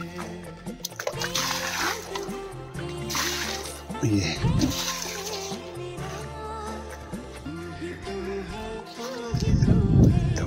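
Water splashing and pouring over a surface in uneven bursts as mud is washed off, with a person talking over it and heavier splashing toward the end.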